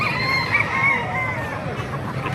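A Lemon Sweater gamefowl rooster crows in a drawn-out, close call, with faint background noise and light murmuring behind it.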